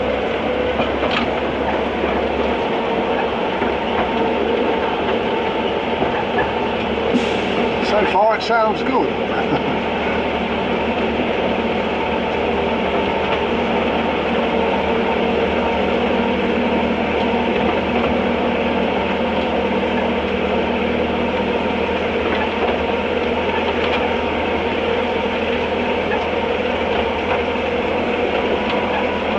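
A miniature Ruislip Lido Railway train climbs the steepest gradient on the line, a steady rumbling run with rhythmic wheel clatter and engine drone close by. A brief squeal cuts in early, and people talk quietly over it.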